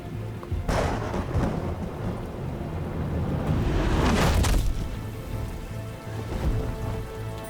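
Rain and thunder in Batman: The Telltale Series: steady rainfall under deep rumbling thunder, with a loud crack swelling around the middle, a low pulsing tone beneath and no speech.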